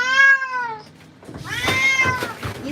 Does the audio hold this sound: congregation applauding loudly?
no